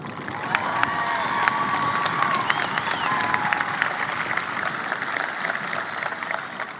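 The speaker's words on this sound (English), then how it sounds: "Please join me in a round of applause" High school graduation crowd claps and cheers for a student, a steady bed of applause topped with whoops and shrill voices calling out, several sustained whistle-like cheers rising above the clapping.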